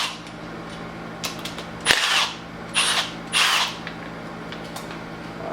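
Power tool with a 10mm socket backing out the primary tensioner bolts during a Nissan 350Z engine timing teardown: short whirring bursts separated by pauses, loud and close over a steady background hum.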